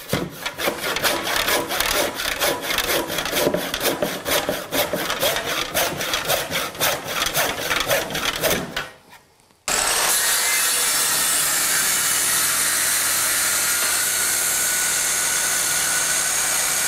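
Steady back-and-forth strokes of a hand saw cutting through wood for a chair, rapid and rhythmic, stopping briefly before a continuous rasping noise takes over.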